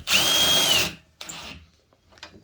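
A power tool loosens the rear shock absorber bolt on a Burromax TT350R motorbike, one loud whirring burst of just under a second followed by a couple of fainter, shorter buzzes and clicks, with no talk.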